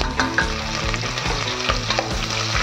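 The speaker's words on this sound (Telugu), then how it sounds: "ఇప్పుడు నేను కట్ చేసి పెట్టుకున్న ఆనియన్ అండ్ చిల్లీస్ యాడ్ చేస్తున్నాను." Chopped onions and chillies fry on a low flame for ghee rice, making a steady crackling sizzle with soft stirring scrapes, close and continuous.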